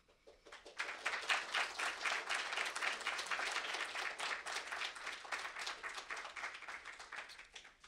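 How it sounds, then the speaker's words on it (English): An audience applauds after a student reading at a university English department event, a dense wash of many hands clapping that swells in quickly and holds steady at a moderate level to the end. "Another round of applause for Ashley"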